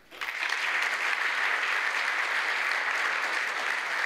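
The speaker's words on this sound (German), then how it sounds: "Applaus" Audience applause fills a German talk event on cybercrime after the closing thanks, a dense steady wash of clapping that starts abruptly and holds loud for several seconds without voices.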